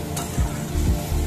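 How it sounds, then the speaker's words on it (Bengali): Cabbage curry frying in a pan while being stirred, a steady sizzle with a few spoon scrapes through the mixture, close and fairly loud, no speech. "এবার আরেকটু নেড়ে দিই"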